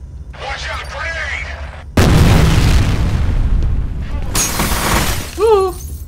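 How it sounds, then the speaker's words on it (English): Grenade explosion in the shooter game F.E.A.R., a sudden loud boom with shattering debris that rolls on for several seconds, with game voices shouting before and after. "Watch out, grenade!"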